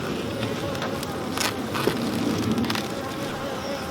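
Honey bees hum in an open hive as frames are lifted and inspected, a continuous low buzzing close by with occasional soft rustles and knocks of handling.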